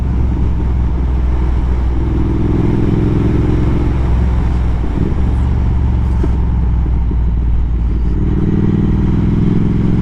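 A Triumph Speed Twin 1200 motorcycle is ridden through a bend on cobbled or paved road, its steady engine drone loud and continuous with wind rush, the pitch shifting slightly as the rider eases and reapplies throttle.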